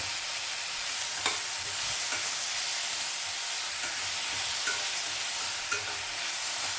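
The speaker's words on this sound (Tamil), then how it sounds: "தக்காளி நல்லா வதக்கட்டும்." Finely chopped tomatoes sauté for a Tamil-style tomato gravy, a steady broad sizzling hiss from the pan with a few faint clicks of stirring throughout.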